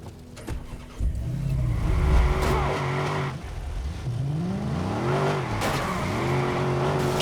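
A car drives in Watch Dogs, its engine revving up and down through gear changes at mid pitch, a steady close motor drone with rising and falling sweeps and occasional thumps, with no voices.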